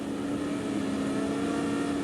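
Group A and V8 touring cars at Amaroo Park launching off the start line together, engines roaring in a steady, dense blare with a sustained drone, loud and continuous, no talk.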